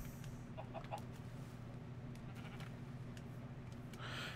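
Faint video game chicken clucks sound a few times early on over a low, steady ambient hum, quiet and somewhat distant.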